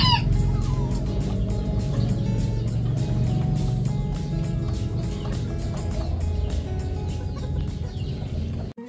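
Bantam chickens cluck and murmur steadily close by in cages, with a low background hum and no talking.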